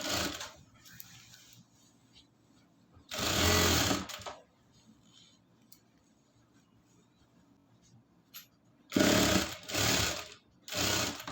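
A sewing machine stitches elastic onto a half belt in several loud, close bursts of rapid needle clatter separated by quiet pauses with soft handling sounds.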